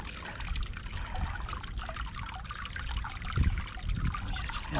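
Water pours and trickles steadily into a heavy potted water lily, with bubbling and gurgling as air escapes from the pot, close and continuous throughout.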